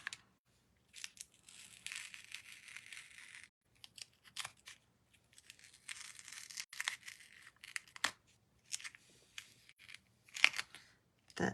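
Masking paper being torn and peeled off a paste-textured stamping card, with several bursts of dry ripping and crinkling and a few sharp tears between short quiet gaps, close and fairly soft.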